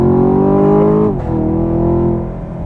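A Chevrolet Camaro sports car engine roars loudly close by, revving high, dipping briefly as it shifts, then climbing again before easing off.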